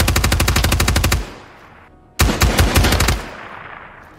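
Bursts of rapid automatic gunfire in Rainbow Six Siege, a loud rattling volley lasting about a second, a brief pause, then a second sustained burst, close and dry with no talk.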